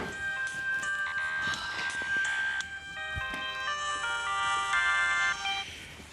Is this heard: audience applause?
no